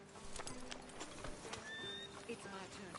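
Horse hooves clip-clopping in Red Dead Redemption 2 outside a sheriff's office, faint scattered hoof steps with a whinny-like tone, heard under people talking.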